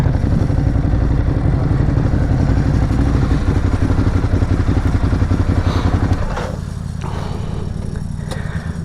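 A Ducati Hyperstrada motorcycle rumbles close at a steady, loud throb, then drops to a lower, softer idle as it rolls in and stops to park.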